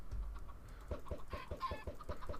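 Video game chickens cluck in quick, rhythmic bursts, several birds sounding together at a faint, steady level with no talking.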